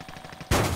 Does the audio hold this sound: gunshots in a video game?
yes